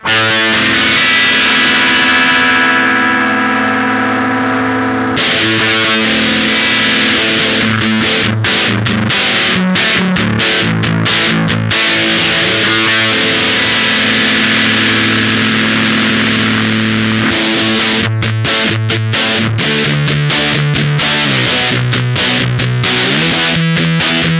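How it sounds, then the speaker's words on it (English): A distorted electric guitar played through an Old Blood Noise Endeavors Beam Splitter pedal with the gain turned up, with sustained gritty chords and choppy rhythmic strums, loud and saturated. "as we start to turn that gain knob up, we're gonna increase the overall saturation or distortion"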